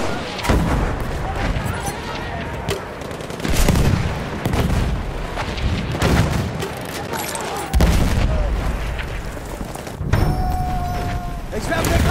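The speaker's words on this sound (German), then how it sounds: "Ich werfe eine Granate." Repeated heavy explosions boom out in Battlefield 1 combat, a grenade blast among several loud bursts spaced every few seconds amid ongoing gunfire and battle noise, with voices shouting in between.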